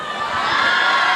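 An audience cheers and applauds for a group dance act at a talent show, a dense, steady crowd roar that swells slightly and holds for about a second.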